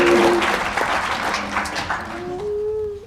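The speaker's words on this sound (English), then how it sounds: "Clap it up for Olivia and Greg." Audience applause for two small-scale farming panelists at a food literacy panel, a dense burst of clapping that starts loud and gradually thins and fades over a few seconds, with faint voices and a low tone underneath.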